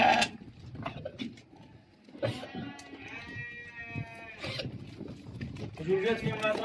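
Sheep in a flock of about fifty kept for sale near Oulad Bouziri bleat in a drawn-out, wavering call at mid-distance, while people talk over and around the calls.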